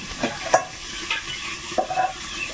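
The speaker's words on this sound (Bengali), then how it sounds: "এখন মাছগুলো ভাজা হয়ে গেছে দেখেছি" Large live river gagra fish frying in a pan, a steady close sizzle broken by a few sharp stirring knocks and scrapes.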